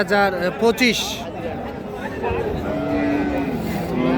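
Cows mooing at a weekly cattle market selling dairy cows with calves, with long, close bellows rising over a loud background of crowd babble and voices.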